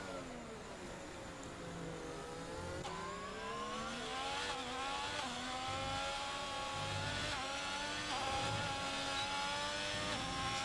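Race car engine from a racing video game screaming up and down through the gears on a quick lap around Bahrain, pitch sweeping with repeated shifts and faint tyre squeal, fairly quiet and steady throughout.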